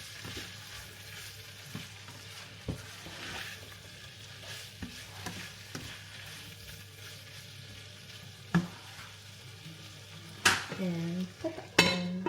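Fried rice being stirred in a frying pan with liquid seasoning added, a steady soft sizzle with repeated scraping and clinks of the utensil against the pan, ending in louder metallic knocks.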